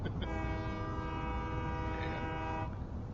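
A train horn in the game Satisfactory blows one long, steady, sustained honk for about two and a half seconds, loud and close over a low rumbling background.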